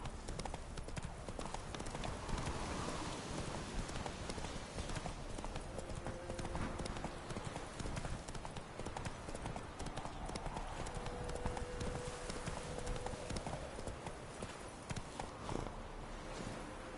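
Hooves clip-clop steadily as the horse Roach gallops in The Witcher 3 video game, a continuous rhythmic pounding under game ambience with brief voices mixed in.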